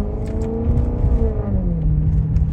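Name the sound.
Maserati Quattroporte GTS engine while cruising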